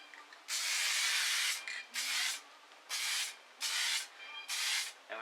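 Several short bursts of spray finish hiss onto an electric guitar body in light coats, each burst lasting about a second with brief pauses between, close and fairly quiet.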